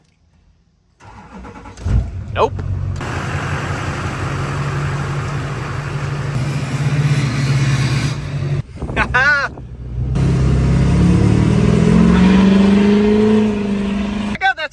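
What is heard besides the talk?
Duramax pickup truck engine starting and revving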